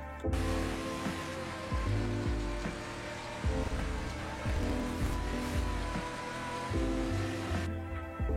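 Race cars in a racing video game speed into a corner, with loud engine tones rising and shifting in repeated gear-change steps. Other cars are passed along the way, and the roar stays continuous with no talk.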